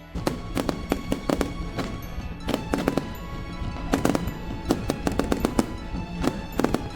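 Fireworks over the Chao Phraya River at Memorial Bridge, Bangkok, during New Year celebrations crackle and bang in rapid, irregular bursts, many sharp explosions overlapping against a steady background rumble.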